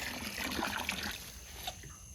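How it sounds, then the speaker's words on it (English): Fresh water poured out for backyard chickens, a steady close trickle and splash that fades toward the end. "getting them some fresh water"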